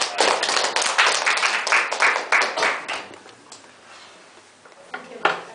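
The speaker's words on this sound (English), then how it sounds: "So can we have a round of applause to Dr. Chang?" A lecture audience gives a short round of applause for a speaker, with distinct, uneven claps from a modest crowd that rise quickly, thin out after a few seconds, and end with a couple of final isolated claps.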